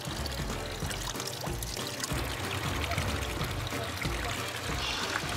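Gragnano spring water, light and low in calcium, poured steadily from a fountain or tap in Italy, a continuous close splashing gush that runs unbroken throughout.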